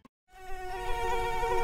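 A mosquito whines steadily and close, with a thin buzzing tone that starts after a brief silence and holds loud to the end.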